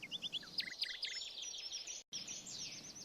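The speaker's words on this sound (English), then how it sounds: "Birds could already be heard waking up." Quiet, distant birds chirp and trill at dawn in the Roblox game, in short high bursts over a faint background hush, with a brief dropout partway through.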